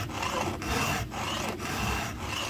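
A round file rasps across a chainsaw chain in steady back-and-forth strokes, each pass a gritty scraping with short breaks between, close up and with no voices.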